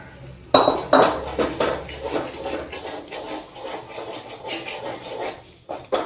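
Flour roasting in ghee in a pan over low heat for suva pak, heard mainly as a spoon scraping and clinking against the pan in uneven strokes, close and alone.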